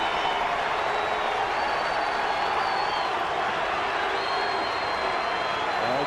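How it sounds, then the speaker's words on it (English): Dodger fans in a baseball stadium crowd booing, a loud steady roar of many voices sustained throughout without a break. "Dodger fans are booing."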